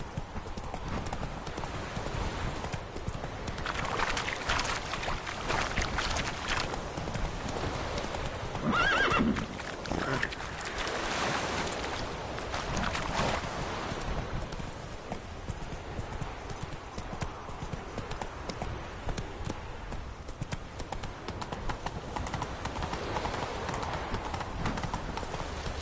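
A horse gallops steadily in The Witcher 3, its hooves clip-clopping in a continuous rhythm close up, with a brief neigh partway through and no talking.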